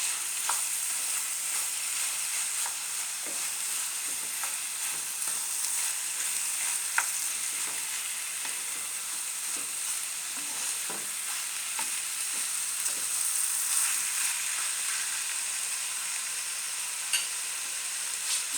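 Steady frying sizzle as strips of chicken breast cook in a pan with softened peppers and onion, continuous and close, with occasional soft stirring scrapes and no talk.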